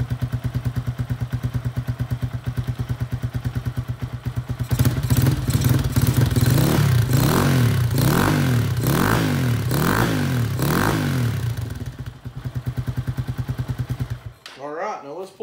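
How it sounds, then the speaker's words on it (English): Motorcycle fitted with a KP Mini exhaust with the baffle installed, running close by: a steady throbbing idle, then a stretch of louder revving blips, settling back to idle before a brief clatter at the end. "let's see what she sounds like with the baffle in"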